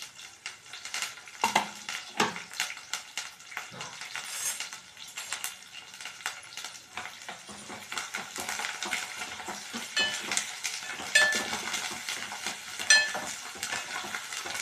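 Green chillies and curry leaves frying in a pan for aloo curry, a steady close sizzle with irregular scraping and tapping of a stirring utensil against the pan.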